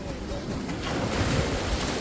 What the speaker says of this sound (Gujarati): સરસ મજાના મોજા માદ્યું છે